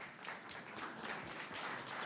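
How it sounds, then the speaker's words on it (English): Applause from a conference audience at the close of a panel discussion, a steady wash of many hands clapping for about two seconds at a soft, even level. "can you just keep the round of applause going?"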